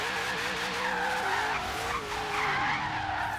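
An 800 HP Ford Falcon drifting in Forza Horizon 3, tires skidding in a long continuous squeal with wavering pitch over a steady engine drone, loud and close.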